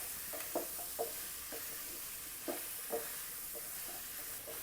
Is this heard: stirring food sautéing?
yes